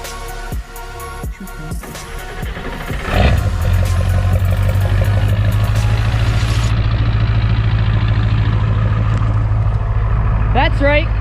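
An old 7.3 truck engine turns over after a few seconds of shuffling and settles into a loud, steady, low idling rumble that carries through to the end.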